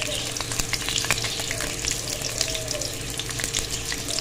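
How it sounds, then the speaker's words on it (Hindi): Finely chopped onions fry in ghee for a mutton karahi, giving a steady, dense sizzle with light stirring scrapes throughout and no talking. "और अब हम इसको इतना फ्राई करेंगे कि ये लाइट गोल्डन सा हो जाए।"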